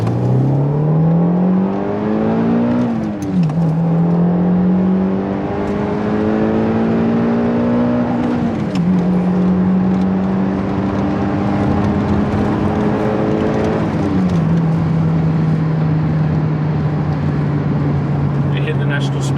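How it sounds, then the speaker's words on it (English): A Citroen C4 VTS accelerates hard on a country road, its engine note climbing steadily through the revs with three clear drops at gear changes, loud and close from inside the car. "let's give it a little acceleration test."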